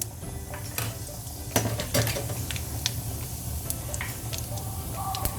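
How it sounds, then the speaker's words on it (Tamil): Mustard seeds and cumin sputter in hot oil in a South Indian kitchen while sambar is made, with scattered sharp pops and crackles over a low background hiss. "கடுகு நல்லா பொரிஞ்சதுக்கப்புறமா"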